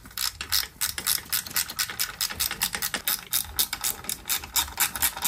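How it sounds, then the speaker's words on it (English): A socket ratchet loosens bolts on a wrecked 2018 Triumph Street Triple 765 RS during an ignition coil removal, clicking in rapid, even bursts of strokes at close range for several seconds. "So I'm going to remove the two bolts that secures this in place."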